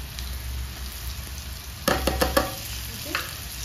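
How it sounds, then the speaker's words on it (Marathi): Ginger, garlic and green chili paste dropped into hot oil in a home kitchen pan, giving a sudden burst of crackling sizzle with a few sharp pops, then easing back to a low steady hiss; no talking. "त्याच्यानंतर ही जी अद्रक लसूण हिरवी मिरची पेस्ट आहे ती टाकते."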